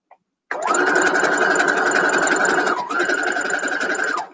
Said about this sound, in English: I'm going to go ahead and sew these together.